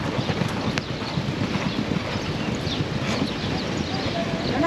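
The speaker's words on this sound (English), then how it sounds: "They're not always going to gallop out that fast, but this pair is going pretty decent." Racehorses galloping at Churchill Downs, a rapid continuous drumming of hooves on the dirt track under gusty wind noise, with a voice speaking over it.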